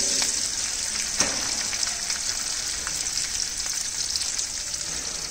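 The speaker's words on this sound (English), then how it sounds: "Add cumin seeds, little bit of chopped chilies, few curry leaves" Cumin seeds, chopped chilies and curry leaves crackle and sizzle in hot oil with a steady, loud bright hiss and a few scattered pops, close up and with no voices.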